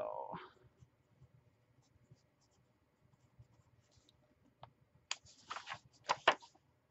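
A Lamy fountain pen writes on thin notebook paper, with faint scratchy strokes and small taps followed by a few louder bursts of scribbling near the end.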